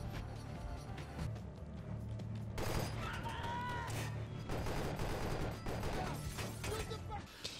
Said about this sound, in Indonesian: Breezer pun menghujani Sugar dengan peluru